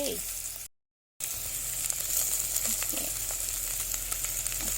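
Pork bones stir-fry in a pan outdoors in a garden, a steady crackling sizzle with scraping stirs, briefly cut out, while a voice talks over it.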